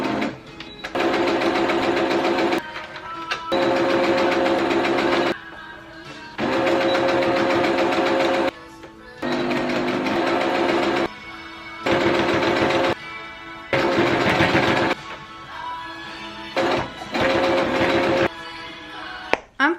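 A sewing machine stitches fabric wristlets and bookmarks in loud, rapid runs, several bursts of steady whirring separated by short pauses, with no one talking.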